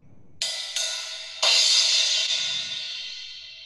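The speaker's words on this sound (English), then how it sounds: "Now, to the crash cymbal, which sounds like this." Two quick cymbal crashes followed by a louder crash that rings and slowly fades, bright and close with no voices.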